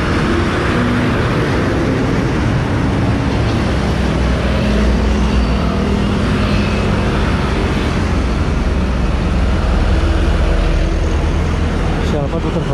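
Trucks making U-turns on a busy road in front of Citra Harmoni, a loud, continuous rumble of heavy engines and traffic, with people talking over it.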